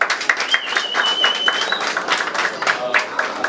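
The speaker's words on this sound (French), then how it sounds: "Est-ce qu'on peut applaudir?" Audience applause and clapping from a crowd at a talk show or live event, dense and steady for a few seconds, with voices and a whistle-like tone mixed in.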